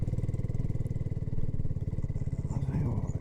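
BSA Goldstar 650 Scrambler motorcycle riding up a mountain track, a steady close thumping single-cylinder engine beat that runs throughout, with a faint voice underneath toward the end.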